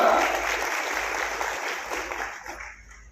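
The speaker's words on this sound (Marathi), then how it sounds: "एकदा जोरदार टाळ्या वाजून त्यांचं अभिनंदन करा" An audience at a first-anniversary gathering of the Satyashodhak Lahuji Kranti Sena organisation in Rahuri claps loudly for its workers, a dense, steady wash of applause that thins slightly toward the end.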